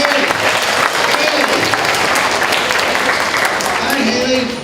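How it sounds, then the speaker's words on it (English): An audience of schoolchildren claps steadily in a broad, sustained round of applause that holds at full strength for several seconds before tapering off, with a few faint voices mixed in. "How about a nice round of applause right from Haley?"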